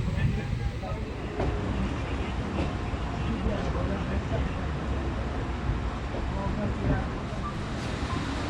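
A Samta Express passenger train running between Gondia and Visakhapatnam: a steady, dense rumble with rattling wheels and carriages, loud and continuous throughout.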